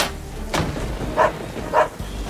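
A puppy gives two short, high yelps about half a second apart over a constant hiss of falling rain.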